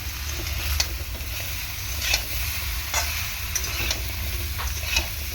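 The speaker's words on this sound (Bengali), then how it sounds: "লবণটা দিয়ে আবার একটুখানি নাড়াচাড়া করে নেব" Vegetables for shukto frying in a pan after salt is added, stirred with a spoon that scrapes and knocks at regular intervals over a continuous sizzle and low background rumble.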